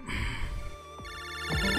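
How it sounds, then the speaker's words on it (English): Electronic phone ringtone in Mega Man Battle Network 5, a bright synthesized warbling ring repeating quickly over game music, clear and close. "Ring, ring. Lan, it's a phone call."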